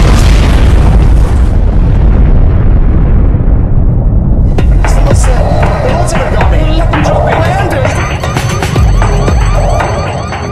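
A dramatized explosion of the Chernobyl nuclear reactor: a loud, sustained rumbling boom, followed by crackling debris and high ringing, alarm-like tones over the continuing roar.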